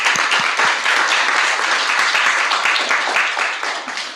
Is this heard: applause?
yes